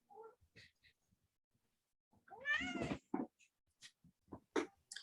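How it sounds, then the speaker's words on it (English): A cat meows several times indoors, short close cries with one longer drawn-out yowl in the middle, separated by quiet gaps. "Or a cat meows at a door until the"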